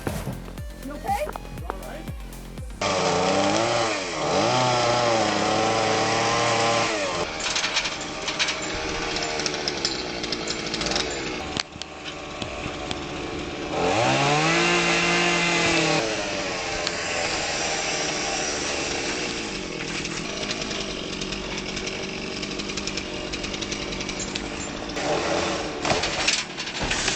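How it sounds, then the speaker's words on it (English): A chainsaw revs and bogs repeatedly, loud and close, cutting a tree from a ladder, its pitch rising and falling as it cuts; people talk in bursts over the engine. "Chainsaw on a ladder, one wrong move brings serious consequences."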